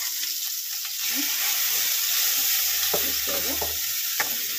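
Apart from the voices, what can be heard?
mustard seeds spluttering in hot oil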